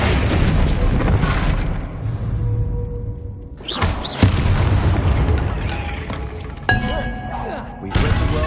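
Fiery spell blasts in a Hogwarts Legacy fight: sharp shattering bursts and booming impacts erupt one after another amid busy combat noise, loud and close, with a voice heard in the mix.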